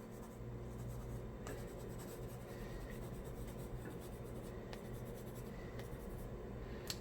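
A watercolor pencil scratches and rubs steadily across paper as colour is filled in, a continuous close, soft scribbling texture with faint occasional ticks and no talking.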